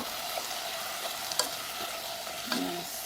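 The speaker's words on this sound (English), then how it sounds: "and then stir all that together" Brown sugar, vinegar and coconut milk adobo sauce sizzles in a pan while being stirred, a continuous close bubbling hiss with a couple of light utensil taps.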